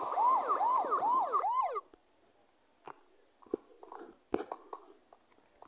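A police car siren wails in a rapid rising-and-falling yelp for nearly two seconds, loud and close, then cuts off, followed by scattered clicks, handling noises and soft whispery sounds.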